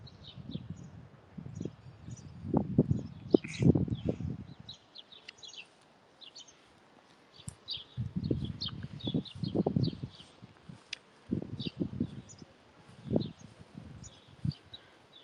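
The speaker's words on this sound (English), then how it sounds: "Oh, it's a bird. Hello, bird." Faint bird calls chirp repeatedly in the background outdoors at Jedburgh Abbey on a sunny summer day, a scattered series of short high notes over low rustling and wind-like rumble, with no talking.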